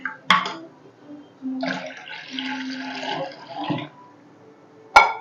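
About a litre of water pours into a pot for drumstick lentil soup in a steady gurgling stream, with a few clinks and bumps of cookware before and after.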